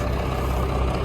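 A farm tractor engine running near a fertilizer spreader, a loud, steady low diesel rumble close by with no change in pitch.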